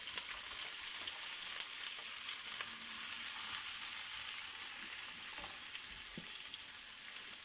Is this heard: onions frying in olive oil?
yes